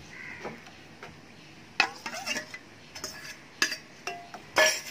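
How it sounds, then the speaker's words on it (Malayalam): Coffee mix being added to milk and stirred, heard as light scattered clinks and scrapes of a spoon against a vessel, quiet with sharper taps spaced irregularly. "ഈ കോഫി മിക്സ് നമുക്കിനി പാലിലേക്ക് ചേർത്ത് കൊടുക്കാം."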